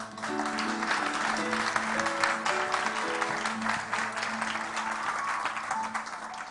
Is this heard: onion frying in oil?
no